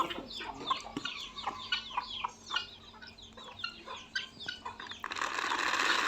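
Chickens cluck and call repeatedly at close range around maize being winnowed in an African village, their short clucks scattered throughout before a breezy rush of chaff and wind rises near the end.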